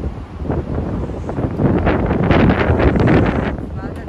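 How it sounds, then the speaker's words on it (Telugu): Strong outdoor wind in Kuwait City roars and buffets the microphone as a continuous, loud, rushing noise that swells slightly in the second half. "బాగా గాలి చాలా ఎక్కువగా ఉంది."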